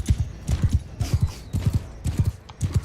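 Horses galloping in a cavalry charge in the game Mount and Blade II: Bannerlord, a steady run of thudding hoofbeats in quick triplet-like clusters, close and fairly loud, with no talk over them.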